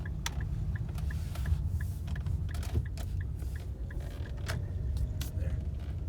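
The drivetrain of a 2012 Infiniti M35h hybrid gives off a gravel-like grinding: scattered dry crackles and ticks over a quiet, steady low rumble, with no talking.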